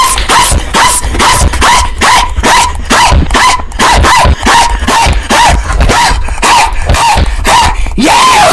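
Cartoon dog in the Talking Ben video game barking over and over, loud, close, rhythmic yaps repeated at a quick steady pace for the whole stretch.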